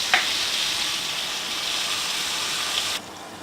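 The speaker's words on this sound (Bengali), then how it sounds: "এটা আমি সুন্দর করে একটু লাল লাল করে ভেজে নেব।" Eggplant frying in a pan with turmeric, a steady soft sizzle with a faint clink near the start, continuous and fairly quiet before cutting off abruptly near the end.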